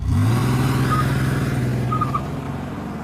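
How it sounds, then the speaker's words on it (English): A taxi's engine rumbles loudly and steadily as the car pulls away on a foggy night, a low continuous drone that eases slightly toward the end, with no voices. "The sound of the car door shutting echoes in the foggy silence."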